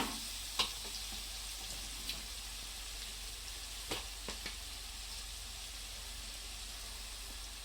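Chopped tomato goes into a hot frying pan for cabbage bhaji and gives off a soft, steady sizzle, with a few faint clicks and taps of a utensil on top.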